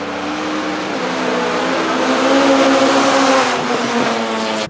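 A Honda Civic with a 44 engine on a hill climb run roars steadily at high revs, loud and sustained as it accelerates up the course, engine tone climbing through the gears with no voices.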